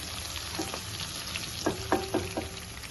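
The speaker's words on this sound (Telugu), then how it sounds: "ఇప్పుడు కట్ చేసి పెట్టుకున్న ఉల్లిపాయ పచ్చిమిర్చి ఇవి ఫ్రై అవ్వాలి" Chopped onions and green chillies fry in a pan, giving a steady sizzle with a few sharp stirring clinks and scrapes toward the end, close and fairly quiet.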